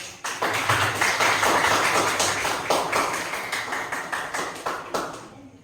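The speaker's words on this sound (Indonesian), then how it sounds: "Kita kasih tepuk tangan untuk kelompok" Steady applause from a classroom of students for a presenting group, dense continuous hand claps, close and fairly loud, fading at the end with little talk.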